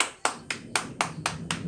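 Six crisp hand claps, evenly spaced and close by, ring out in a steady rhythm to call a dog, with quiet room sound between them.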